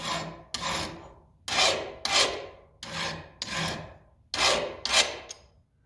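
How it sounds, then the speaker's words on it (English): A hand file carves into the steel of a chisel in a run of rhythmic rasping strokes, paired push strokes repeating about eight times, close and clear with no talking. "the file can get into the steel and carve off small pieces"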